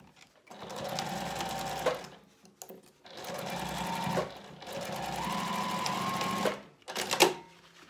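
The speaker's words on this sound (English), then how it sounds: "we are going to stitch along this raw edge using 1/4 inch seam allowance" A sewing machine stitches a seam along the raw edge of a fabric basket gusset. It runs in three steady whirring bursts, each a couple of seconds long, with brief pauses and handling noise between them.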